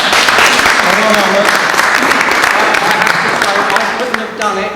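An audience at a political gathering breaks into sustained applause, a dense wash of clapping that holds steady and then tapers slightly near the end, with voices mixed in underneath.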